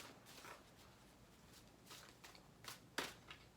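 Tarot cards being shuffled by hand, a series of soft papery riffles and swishes repeating irregularly, ending in a sharper snap of cards, close and fairly quiet with no talk.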